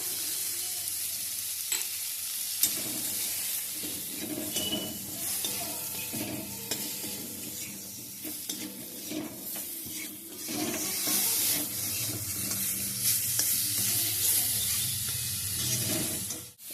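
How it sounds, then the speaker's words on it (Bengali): Tomato and dried coconut powder frying in a pan give a steady close sizzle and hiss, broken by occasional stirring scrapes and soft clicks, with no voices over it. "টমেটো নারকেল এগুলো সব সুন্দর করে ভেজে নিয়েছি"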